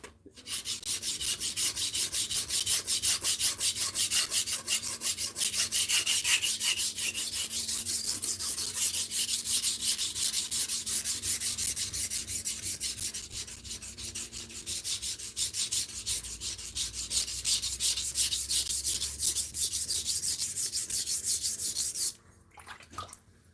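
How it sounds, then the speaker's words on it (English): Steady abrasive rasping as a blade bevel is ground back and forth on a sharpening stone, continuous and close, with a near-constant scraping texture that stops abruptly near the end. "I need to grind a little bit more because I can still see my micro bevel"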